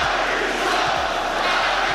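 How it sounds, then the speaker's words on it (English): A basketball arena crowd during a 2022 playoff game makes a steady, dense roar of many voices for about two seconds, with no single voice standing out. "fans would start to cheer Kyrie sucks in the fourth quarter"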